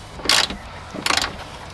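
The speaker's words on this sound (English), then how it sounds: "we're going to take the bolt, put it back in" A bolt being reinstalled and tightened during a cable install on a Jeep WJ Grand Cherokee, heard as two quick ratcheting bursts close by, separated by a short pause.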